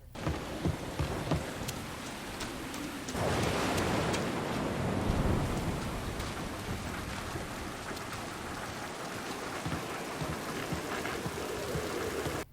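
Heavy thunderstorm rain pours steadily on a rainy night in Mafia Definitive Edition, a dense loud hiss with a deep rolling thunder swell early on before easing back to constant downpour.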